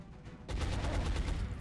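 An XCOM soldier fires on an enemy: after a brief quiet lead-in, a sudden loud burst of gunfire breaks out and rattles on as a dense, sustained volley of rapid shots.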